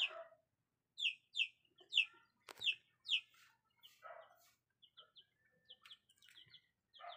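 Several chickens on a terrace cluck and squawk in short repeated bursts nearby, with a sharp knock partway through and quieter chirps between.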